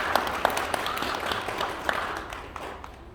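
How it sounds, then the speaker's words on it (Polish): A small crowd at a first-grade school pledge ceremony applauds steadily, with scattered sharp claps standing out from the ongoing patter, moderately loud and without speech. "I duże brawa dla Zosi."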